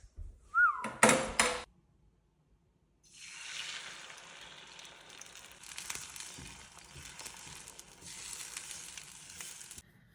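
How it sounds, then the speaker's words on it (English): Two scrambled eggs frying in a pan: a brief clatter and a short tone open, then after a pause a steady, close sizzle that keeps going with no voices. "I'm making 2 scrambled eggs"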